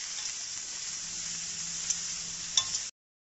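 Okra frying with turmeric in a pan, stirred as it sizzles, giving a steady close hiss with a couple of sharp utensil scrapes near the end before it cuts to silence.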